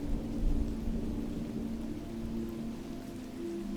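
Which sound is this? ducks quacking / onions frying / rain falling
rain falling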